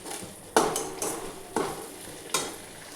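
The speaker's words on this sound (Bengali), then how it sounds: "এটা ভালো করে ভেজে নিই।" Ground cumin, coriander, Kashmiri chili powder and salt frying in a pan for a paneer curry, with a few sharp stirring scrapes and sizzling bursts over a low steady crackle, no talking.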